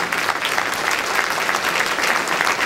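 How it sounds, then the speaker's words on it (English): A gala audience at a YMCA awards event gives sustained, dense applause, a full room clapping loudly and evenly with a few faint cheers mixed in. "Another round of applause"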